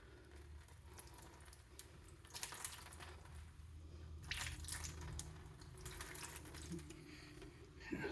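A faint stream of running water splashes over rescued Venus flytrap plants being gently rinsed, with a soft steady patter and a few brief louder gushes, quiet and close.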